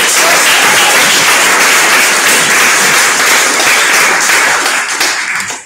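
A large audience at a literary anthology launch event bursts into loud, sustained applause after a reading, dense clapping holding steady before tapering off at the end.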